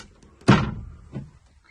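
A camper's storage door in the washer and dryer area is shut with one loud slam and fails to latch, followed by a softer rebound knock about a second later.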